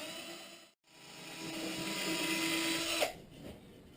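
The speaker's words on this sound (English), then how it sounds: "I'm just going to drill a pilot hole right where I want these to be." A small power drill bores a pilot hole into a wooden guitar headstock, a high, steady whine that builds for a couple of seconds, then cuts off, close up and with no talking.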